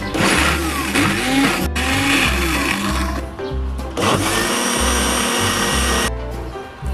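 A blender whirs loudly in bursts while making garlic pepper mayonnaise, its motor pitch shifting as the contents churn, pausing briefly between runs.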